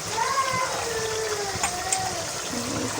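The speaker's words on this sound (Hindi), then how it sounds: "मैं एक कप पानी डालूँगी।" A cup of water is poured into a pan of browned chicken cooking in oil. The result is a steady, close gush and sizzle with a continuous rushing wash and no talking.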